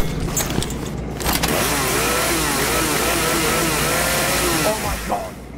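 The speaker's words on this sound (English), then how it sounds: "Is this really full chainsaw mode?" A chainsaw in the video game High on Life revs loudly and steadily, a buzzing engine roar that holds for several seconds before easing off near the end, with no talk over it.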